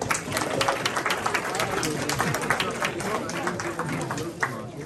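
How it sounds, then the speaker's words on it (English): Audience applause greeting a consultant chef at a curry cooking workshop, steady dense clapping from a crowd lasting several seconds, with chatter mixed in. "Round of applause, please."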